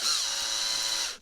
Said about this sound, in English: So we'll try and whiz this in all the way in.